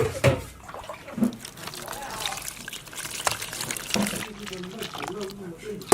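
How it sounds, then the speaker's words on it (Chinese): Water poured over freshly grated potatoes in a bowl to wash them, a light splashing trickle and dribble heard close up, with someone talking over it. "倒点水洗一下"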